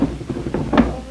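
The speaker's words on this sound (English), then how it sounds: "To fix the drawer? It works fine now, Martha." An old wooden kitchen drawer thuds shut once near the close, after a few softer knocks and bumps of handling, heard close and indoors with no voices.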